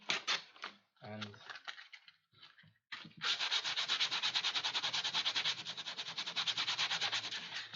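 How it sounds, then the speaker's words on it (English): Sandpaper rubs fuzz off a guitar strap in quick, regular back-and-forth strokes, close and steady for several seconds, after a few brief scrapes with a voice speaking among them. "I have a lot of fuzz on this side, so I think I'm just going to take some sandpaper"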